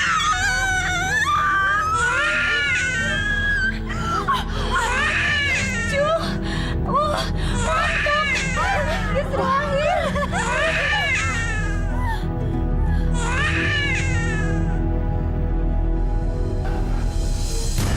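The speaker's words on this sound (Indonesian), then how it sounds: "Saya seperti mendengar suara tangisan" A baby cries in repeated wailing bursts with rising and falling pitch, loud and close, over a steady low background hum.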